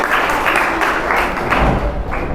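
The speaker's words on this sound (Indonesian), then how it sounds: "tepuk tangan untuk kita semua" A group claps together in a classroom lesson, producing loud, close, continuous applause with a rhythmic pulse of beats.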